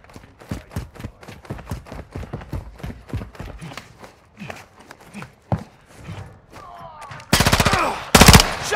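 Rapid automatic gunfire in Call of Duty: Modern Warfare II multiplayer, an Infected match on the Farm 18 map, starting as a dense run of sharp shots and ending in two loud, close sustained bursts.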